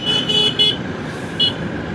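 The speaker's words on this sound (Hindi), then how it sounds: "भयंकर ट्रैफिक है यार" Heavy city traffic in front of a bank, with several short car horn toots in quick succession over a steady rumble of engines and road noise.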